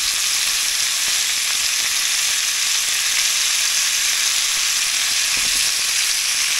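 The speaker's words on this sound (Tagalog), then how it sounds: "Ayan, lagay ko na po ang sibuyas." Onions sizzle steadily in a hot pan for pork mechado, a continuous loud frying hiss with no talking.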